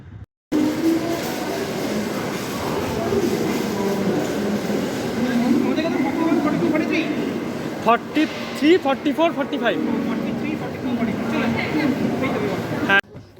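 The Kumbha Express passenger train from Howrah to Dehradun rumbles steadily with rolling wheel noise and a few rhythmic clicks, heard from inside a coach while people talk.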